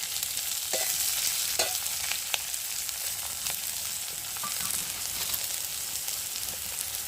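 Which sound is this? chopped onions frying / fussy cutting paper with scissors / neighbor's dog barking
chopped onions frying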